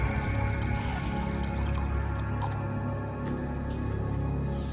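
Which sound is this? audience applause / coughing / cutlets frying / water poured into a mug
water poured into a mug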